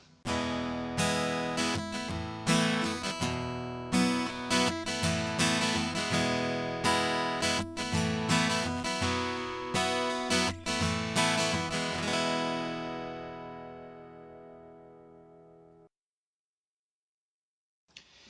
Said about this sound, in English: here is the sound of my guitar with the 85 bypass